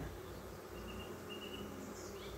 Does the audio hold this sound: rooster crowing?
no